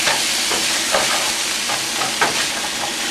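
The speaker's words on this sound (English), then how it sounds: "the ground beef in a large pan, non-stick frying pan on high heat. And we just want to brown this" Ground beef browning in a large non-stick frying pan on high heat, giving a steady close sizzle with a few soft stirring scrapes and no talking.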